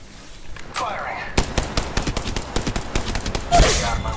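Rapid automatic gunfire from an Apex Legends match, dense bursts of shots loud and close after a quieter opening, with game effects mixed in and no clear talk.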